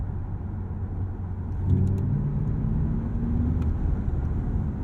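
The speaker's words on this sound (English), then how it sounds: "it's this warp driving noise as you press into the throttle" A low synthetic whirring tone from an Audi RS e-tron GT electric sports car rises in pitch over steady road rumble inside the moving car, swelling smoothly as it accelerates.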